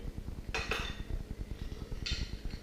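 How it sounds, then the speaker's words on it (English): Ice going into a caipirinha glass, heard as two or three quick clattering bursts of cubes striking glass over a quiet, rhythmic low background. "And now we're gonna fill it back up with ice."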